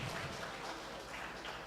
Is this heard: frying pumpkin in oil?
no